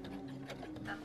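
A sewing machine runs a straight stitch on fabric for a bias binding hem, giving a steady, quiet, continuous mechanical whir with a faint rhythmic needle tick.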